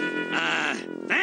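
A sheep gives a wavering, drawn-out bleat, loud and up close, with a brief rise again at the end.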